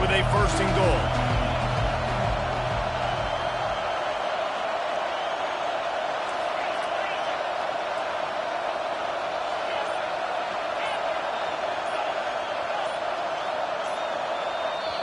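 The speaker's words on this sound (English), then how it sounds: "the crowd forces a false start" Stadium crowd roar in the CFB25 college football video game, a loud steady wash of noise swelling as the home fans force a false start, with low rumble early that then drops away.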